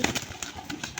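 A pet pigeon coos while being fed, close by, with short soft pulses and clicks repeating quickly over a brief moment.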